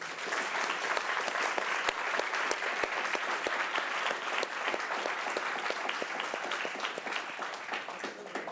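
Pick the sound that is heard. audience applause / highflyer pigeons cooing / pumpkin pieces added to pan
audience applause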